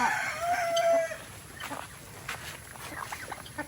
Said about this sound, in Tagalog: Meron tayong dalawang manok dito